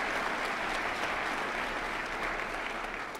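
A crowd at a city's State of the City address applauds in a steady, continuous wash of clapping that holds evenly for a few seconds.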